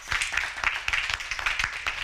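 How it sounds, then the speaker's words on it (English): Audience clapping at a union press conference, a brisk spatter of individual claps in an uneven rhythm, fairly close and moderately loud for a couple of seconds. "Let's give them one more round of applause"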